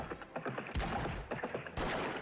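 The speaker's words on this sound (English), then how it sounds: "We've got just tons of cannons shooting at him." Cannon fire and gunfire from a battle in the strategy game Victoria 2, with dense overlapping volleys and two heavy booming cannon blasts standing out, loud and continuous without speech.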